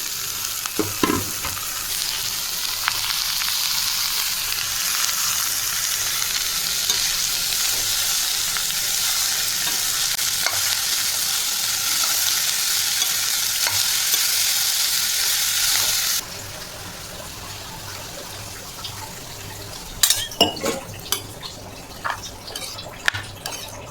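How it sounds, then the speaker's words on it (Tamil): Broad beans tipped into a hot tempering of onion, green chili and curry leaves fry with a steady, loud sizzle for about sixteen seconds, then the hiss drops and a spoon scrapes and clinks against the pan. "இதில் அப்படியே நம்ம காயை கொட்டி கிளறி உப்பு போட்டு வேக வைக்க வேண்டியது தான்."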